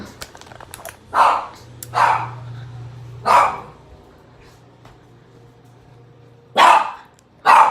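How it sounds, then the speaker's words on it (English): A dog barks excitedly at someone at the door: five loud, sharp barks in irregular bursts, close by, with a low hum and quiet gaps between them. "my dog is going crazy and somebody's at my door"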